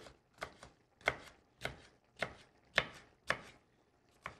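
A knife chops shallots on a cutting board in a kitchen, seven or eight crisp, evenly spaced strikes about half a second apart, close and alone with no voices.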